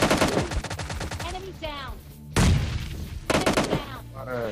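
Gunfire in the PUBG Lite video game: rapid automatic bursts of close, loud shots in quick rhythmic volleys, with a heavier blast midway, over a voice talking.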